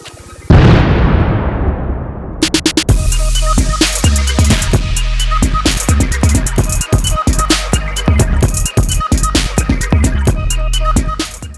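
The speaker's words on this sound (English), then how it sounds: "It turns out that I put maybe too much gas, and it kind of went boom" A paper Splash Mountain model blown apart by a gas explosion: one sudden, very loud boom, then a long roaring, crackling rush of noise with repeated pops and bangs continuing to the end.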